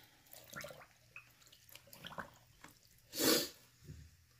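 Handfuls of wool fleece pushed down into a tub of wash water make soft sloshing and dripping, with one louder gurgling splash near the end and quiet breathy sounds between.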